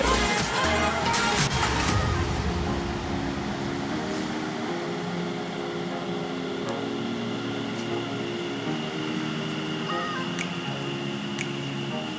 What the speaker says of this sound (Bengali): আমরা দেখতে পাচ্ছি মেট্রো আসছে